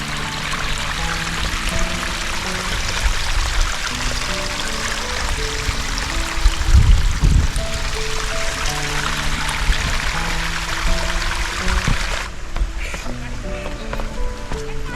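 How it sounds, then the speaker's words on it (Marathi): A mountain water spring on Jarandeshwar Mountain flows in a steady, close hiss and trickle throughout, with a brief low thump midway and music or voices faintly underneath. "इथून पाण्याचा झरा वाहतोय आणि त्याचा आवाज पहा."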